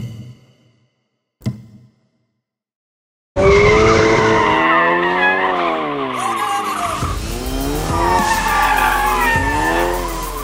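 A Ford Focus RS fitted with the Ford Performance Drift Stick drifts with its rear tires locked, giving a loud, sustained tire squeal that wavers in pitch over engine roar, near and continuous after a quiet start.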